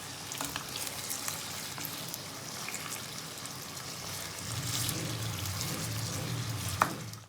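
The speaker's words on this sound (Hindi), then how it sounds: "तो यहाँ पर हम ऑयल में इसे डालेंगे और मीडियम फ्लेम पर हम चिकन को फ्राई करेंगे" Chicken curry-cut pieces fry in oil over a medium flame while a spoon keeps stirring them. A continuous crackling sizzle carries throughout, rising slightly midway, and a single sharp metallic clink sounds near the end.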